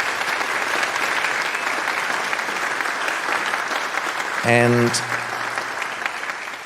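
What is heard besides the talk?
audience applause at a concert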